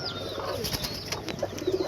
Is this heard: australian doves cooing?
yes